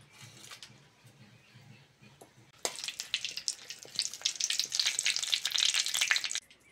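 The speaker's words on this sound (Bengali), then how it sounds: "এবার দিয়ে দেবো দুটো শুকনো লঙ্কা," Dried red chillies and a bay leaf hit hot mustard oil, bursting into a loud, steady sizzle after a quieter opening with a few faint clinks, the crackle building and holding close up before stopping abruptly.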